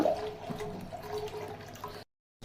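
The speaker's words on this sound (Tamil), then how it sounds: "பால் கொதிக்க ஆரம்பிச்சிருச்சு." Milk coming to a boil in a pot for rice kheer, with a steady close bubbling and simmering that runs without pause, then cuts to silence near the end.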